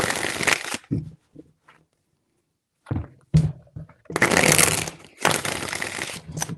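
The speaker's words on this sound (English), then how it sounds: "3 shuffles." A deck of tarot cards is shuffled in several bursts of crisp riffling and slapping, close and fairly loud, with quiet gaps and soft thumps between the shuffles.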